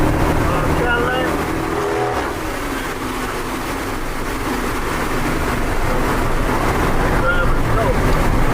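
A green Cadillac rolls slowly by at a Chicago car rideout, its engine rumble steady and loud beneath wind buffeting and crowd voices talking nearby.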